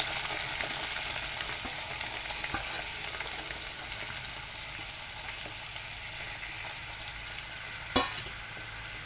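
Onion and tomato sizzle steadily in hot oil for a mushroom dish, with soft stirring scrapes and one sharper clack near the end, close and continuous.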